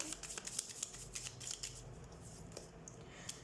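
Tarot cards are shuffled close up in quick riffling bursts of crisp, papery flicks. The bursts are rapid and irregular at first, then thin out toward the end, and no one speaks.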